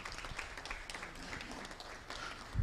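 Audience at a national sports career fair and symposium in Nairobi applauding a speaker, a soft, distant wash of clapping that continues steadily for a few seconds.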